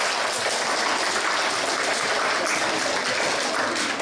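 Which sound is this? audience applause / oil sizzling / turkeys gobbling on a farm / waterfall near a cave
audience applause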